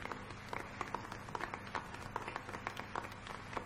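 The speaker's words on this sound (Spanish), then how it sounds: "Un aplauso para el compañero." Light, scattered clapping from a 1980 concert audience at Teatro Riviera sounds faintly from a distance, individual hand claps picking out an uneven rhythm over a low hum.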